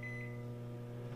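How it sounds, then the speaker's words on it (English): A microwave oven running while old soft plastic fishing baits are heated, giving a steady, continuous hum with a faint tonal whine throughout. "stick it back in the microwave for, at this point we're going to do minutes at a time"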